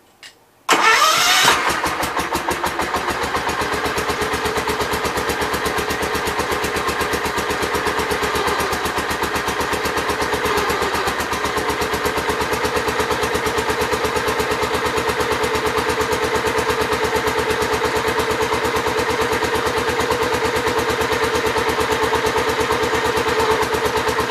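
A Gravely 8122 garden tractor engine starts up with a brief crank, then settles into a steady, loud, close idle with a constant mechanical drone that runs on unchanged, with no one talking.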